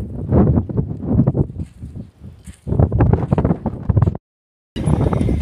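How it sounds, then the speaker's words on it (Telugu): Strong desert wind buffets the microphone in loud, rough gusts with brief lulls, stopping abruptly for a moment near the end before the roar returns. "గాలి అవుతుంది గట్టిగాని"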